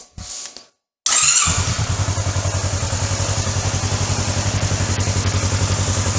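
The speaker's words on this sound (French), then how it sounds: "Je vais devoir démarrer le moteur." A Kawasaki Versys 650 motorcycle engine cranks and fires up after a short pause, then settles into a loud, rhythmic, pulsing idle close by.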